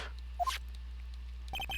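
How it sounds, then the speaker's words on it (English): Ringtone of a phone in the Phoenix Wright: Ace Attorney video game, starting near the end as several quick bright repeated tones, preceded by a couple of short blips over a low steady hum. "And what is with this stupid sounding ringtone?"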